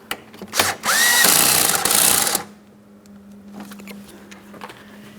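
A power tool tightens a fog light mounting bolt on a 2008-2016 Chrysler Town & Country, a loud close whirring burst of about a second and a half. A low steady hum and a few quieter clicks and rattles follow.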